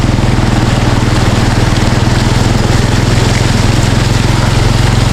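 A small boat or pump engine runs loud and close at a steady idle, its rapid even chugging throbbing without pause throughout while hauling construction materials; no one speaks.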